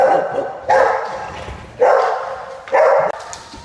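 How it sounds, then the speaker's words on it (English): Several dogs being looked after at home bark in three separate loud, close bursts, with short gaps of quiet between them. "Today I'm looking after some dogs."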